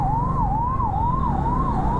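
A wailing ambulance siren rises and falls in a steady, rapid cycle, loud and close over low road rumble.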